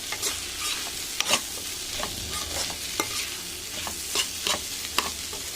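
A Malabar spinach dish is stirred and mashed in a frying pan once its water has cooked off, producing a continuous close sizzle broken by regular scraping knocks of the spoon against the pan.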